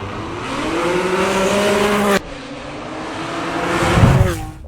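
A BMW M2 Competition drives past, its engine note rising as it approaches. There is an abrupt cut, then a second pass swells loudly to a close peak before fading away.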